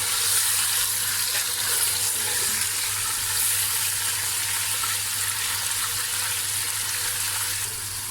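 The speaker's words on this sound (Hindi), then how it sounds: "चिकन को अच्छी तरह से फ्राई कर लेंगे।" Chicken frying in a pot with garlic ginger paste and green cardamom, a loud, steady, close sizzle that runs continuously without a break and with no talking.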